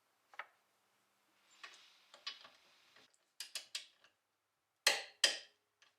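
A torque wrench clicks and ratchets while tightening the lower shock bolt on a 2015+ Subaru WRX during an AirLift suspension install; a series of short, sharp clicks with a few louder snaps near the end, close and quiet, no talk.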